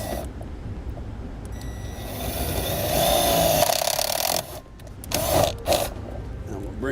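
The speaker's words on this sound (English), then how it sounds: "Then I'm going to go just above that X and pre-drill my hole." A power drill bores a pilot hole near a vehicle firewall while a Demco Air Force One flat-tow brake system for an RV with air brakes is installed. A sustained whirring grind swells in the middle, then tapers amid handling noises.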